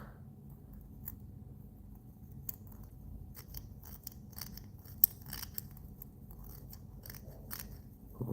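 Quiet, sparse snips of dull scissors trimming waxed thread during fly tying, a handful of small clicks scattered over a low background hum, no talking.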